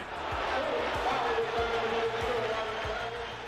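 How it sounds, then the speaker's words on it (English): A basketball arena crowd roars as Boston Celtics center Greg Kite checks into a game against the Lakers, a sustained, dense cheer with rhythmic thumps underneath, heard at a distance. "The crowd welcomed Kite as a hero tonight. Just listen to the reaction when he checked in."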